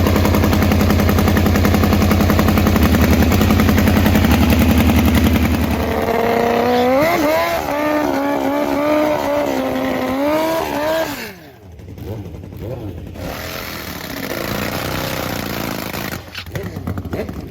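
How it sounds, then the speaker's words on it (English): A turbo Suzuki Hayabusa and a Pro Fuel nitro Harley launch in a no-bar drag race. Engines roar loud and close, then a rising, rapidly shifting high-revving wail carries off before a brief dip and renewed engine noise. "It's No Bar Hayabusa versus Pro Fuel Nitro Harley."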